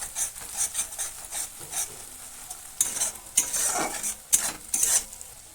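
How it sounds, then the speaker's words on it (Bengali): Ginger-garlic paste frying in a pan while a utensil stirs and scrapes it, giving uneven bursts of scraping and clatter over a soft sizzle, close and moderately loud. "আদা রসুনটাকে দিয়ে ভালো করে ভেজে নিতে হবে যাতে কাঁচা গন্ধটা চলে যাবে"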